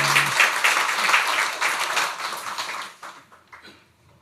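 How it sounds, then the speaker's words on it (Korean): Church congregation applauding the choir after a hymn at a Sunday worship service, a dense burst of clapping that starts loud and thins out toward the end, with brief talk near the start. "우리 경례 박수하겠습니다."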